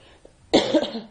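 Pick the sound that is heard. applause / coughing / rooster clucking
coughing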